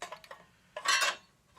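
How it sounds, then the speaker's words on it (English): Metal cover lifted off an NES console: a few light metallic clicks and ticks up close, then a brief, louder scraping clatter as the sheet metal comes free. "we're just going to remove the metal cover off of here"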